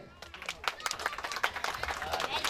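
A small crowd claps at a gathering where a mediator is garlanded and honoured. The claps are dense and irregular and fairly close, with faint voices mixed in under the applause.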